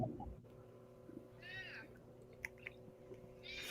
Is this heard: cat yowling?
yes